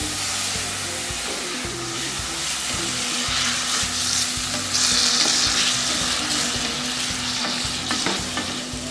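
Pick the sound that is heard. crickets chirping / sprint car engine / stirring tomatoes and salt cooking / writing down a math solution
stirring tomatoes and salt cooking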